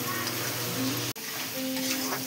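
Prawns frying with spices in a pan, a steady, bright sizzle with faint stirring scrapes close by, briefly cut off for an instant midway before resuming.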